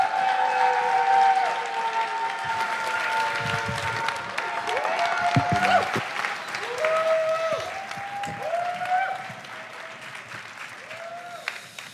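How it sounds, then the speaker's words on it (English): A church congregation applauds a welcomed guest, sustained crowd clapping filling the room with whoops and whistling tones on top, fading out toward the end. "Let's do it right. Clap for Wes Smith."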